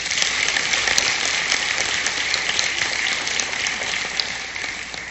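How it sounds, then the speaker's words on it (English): A warm round of audience applause at a corporate annual stockholders' meeting greets the newly elected board of directors, a dense steady clatter of many hands that eases slightly toward the end. "Let us welcome the elected directors with a warm round of applause."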